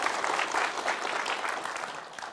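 Audience applause at a parenting talk concert in Gwangju, a continuous wash of many hands clapping at moderate distance, steady throughout with no speech.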